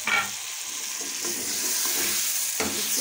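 Chicken fries in a pan with fried garlic, a steady loud sizzle broken by several scraping, clattering stirs of a spoon against the pan.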